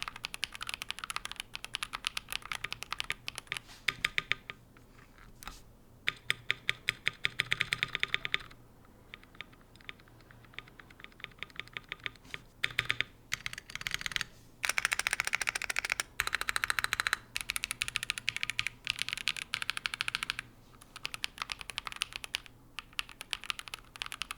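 Steady typing on a stock CK650 65% mechanical keyboard, a dense clatter of keystrokes with a few pauses and bursts of faster typing, close and clear.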